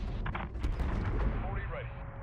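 Heavy 40mm cannon fire from a gunship booms in rough, loud bursts, with a voice talking over the shots.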